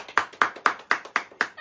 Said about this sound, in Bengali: ও হাততালি দাও, হাততালি দিতে বলছে